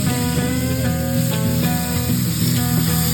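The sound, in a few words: hamburger patties sizzling in a skillet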